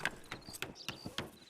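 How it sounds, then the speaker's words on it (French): Horse hooves clip-clop in a video game, a quick run of sharp, evenly spaced steps close by, heard alone without talk. "Et c'est mon cheval qui vient de rentrer tout seul."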